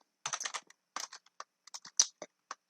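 Keys clatter on a computer keyboard in quick irregular bursts, a flurry of taps and then scattered single strokes, close and fairly quiet, with no voices.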